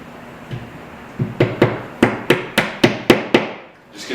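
Plastic wall anchors are hammered into a wall, a run of about nine sharp, ringing knocks at a steady pace, close and loud after a quieter start.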